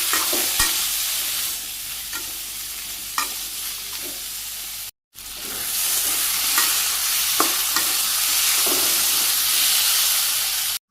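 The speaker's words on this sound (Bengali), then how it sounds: "তেল গরম হয়ে গেছে আমি যে মিষ্টি কুমড়োগুলো ভাজি করুন" Sweet pumpkin fries in hot oil with turmeric, green chili and salt: a loud, continuous close-up sizzle and hiss with intermittent stirring scrapes, briefly cut off near the middle before resuming.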